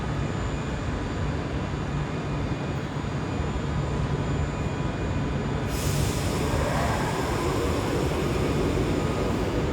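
A West Coast Main Line passenger train pulls out of Glasgow Central bound for London Euston, a loud, continuous rumble and roar under the station roof that grows brighter and fuller about halfway through.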